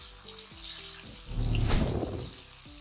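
Two small-to-medium tomatoes dropped into frying garlic and onion for sarson ka saag set off a sudden swell of loud hissing sizzle that fades after about a second, over faint tonal background sounds.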